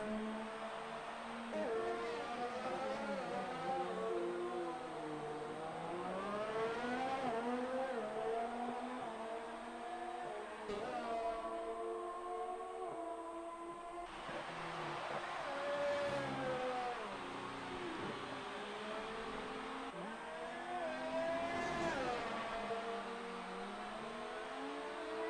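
Race car engines whine and rise in pitch through repeated gear changes in a Super Formula racing video game at a Japan Grand Prix, several passes swelling and fading over a steady background drone.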